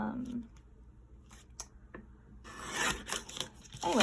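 Cardboard from butter boxes is trimmed for a craft project, giving quiet, short cutting and rubbing sounds with gaps between them and a louder, crisper burst of scraping near the end.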